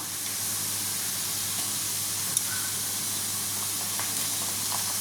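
Ginger paste dropped into hot oil with onions already fried red, giving a steady loud sizzle and hiss that holds evenly throughout with no voices.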